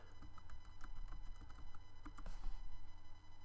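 Username and password keyed in on a computer keyboard: a steady patter of soft keystrokes over a low background hum, without talking.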